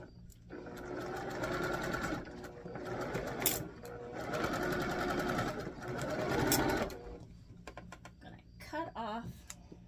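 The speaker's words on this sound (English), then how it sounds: "So I'm just going to sew this first one all the way down for all of my blocks" A domestic sewing machine stitches quilt blocks together in long continuous runs, its needle rattling rapidly and close, pausing briefly before resuming, then stopping with a few clicks and handling noises at the end.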